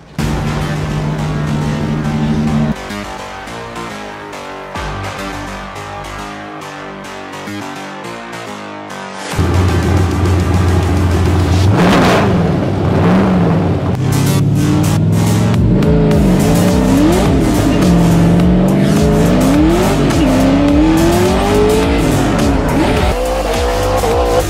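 Mustang drift cars battle at a Formula Drift Texas event with loud engine roars, revving and long tire squeals as they slide. The sound is quieter at first, then a near, intense skidding run with rising and falling engine pitch.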